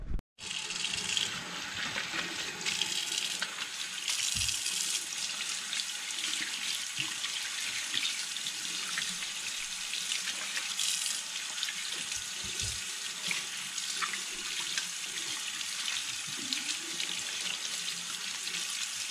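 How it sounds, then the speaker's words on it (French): A kitchen tap runs steadily while fresh peaches are rinsed and rubbed underneath, a continuous close splashing with a few brief knocks against the sink and no voices. "je rince les fruits à l'eau fraîche"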